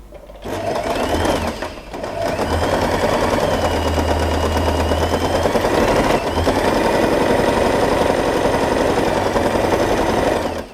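A sewing machine runs almost without pause for about ten seconds, stitching both edges of scrunchie fabric together with a steady, loud, close mechanical whir and brief slowdowns near the start.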